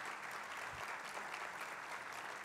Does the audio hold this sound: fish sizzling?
no